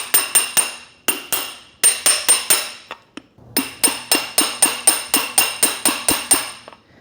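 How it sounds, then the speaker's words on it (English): Metal hammer blows driving an engine seal into place through a bearing press adapter on a Mercedes C63 M156 engine build, dozens of loud, close, ringing strikes in steady rapid bursts with brief pauses between runs. "The answer was grab a bigger hammer, and it went in there."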